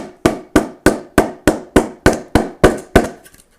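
A ball repeatedly strikes a fiberglass reinforced surface, producing about ten sharp, hard knocks at a steady rhythm roughly every third of a second, each ringing briefly before the next, then trailing off into a few faint bounces.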